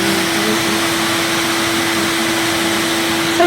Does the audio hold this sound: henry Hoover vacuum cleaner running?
yes